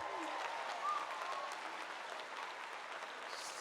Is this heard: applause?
yes